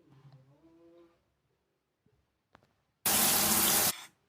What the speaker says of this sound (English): Just search for showering, and it's going to give you that ambience of showering.